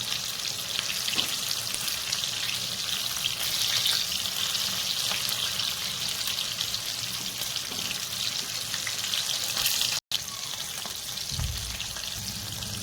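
Chicken pieces deep-frying in oil, KFC-style, a steady loud crackling sizzle that runs on continuously with a brief break near the end and a low thump afterward.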